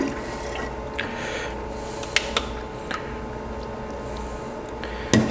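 T-Zone pomegranate juice poured into tap water for sherbet, heard as a close, continuous watery trickle with scattered drips and a few sharper splashes, including one near the end.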